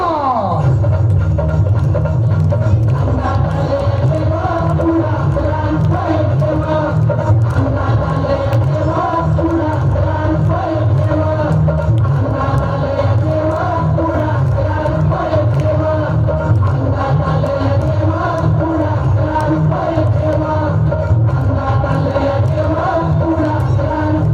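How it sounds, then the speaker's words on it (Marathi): A large crowd at a primary school annual gathering makes a loud, steady wash of clapping and cheering that holds without a break from start to finish. "जोरदार टाळ्या होत्या त्यासाठी."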